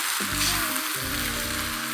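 Chicken noodle stir-fry with sesame oil and coriander is tossed in a hot pan, giving a steady, close sizzle with soft stirring scrapes throughout.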